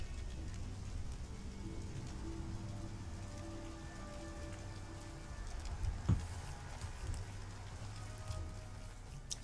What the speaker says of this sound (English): Hey, there's free rain.